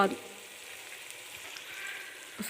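Chopped onions fry in a pan for aloo gobhi with a quiet, steady sizzle, broken by a brief clatter at the start and again near the end.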